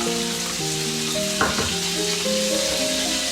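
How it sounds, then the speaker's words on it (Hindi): Onion and cumin sizzle in hot oil in a pan for a chana dal, a loud steady frying hiss with a brief stirring clatter midway. "ऑयल इस्तेमाल कर सकते हैं। प्याज जो हमने थोड़ी सी रखी हुई थी, ज़ीरा ऐड करेंगे"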